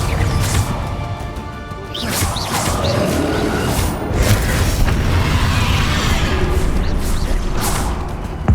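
Confringo spell explosions in the Hogwarts Legacy video game, dense booming blasts and crashes with whooshes layered in a loud, continuous battle din.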